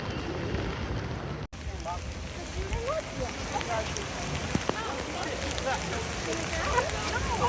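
Rain falls at a Universal theme park in Florida, a constant soft hiss of drops on surfaces with faint background voices and scattered chirpy sounds, and a brief cut early on.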